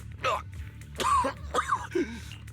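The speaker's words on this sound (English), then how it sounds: "You're coughing up blood." A character in the game Zenless Zone Zero coughs up blood in a string of short, strained, throaty coughs and gasps, with faint game ambience beneath.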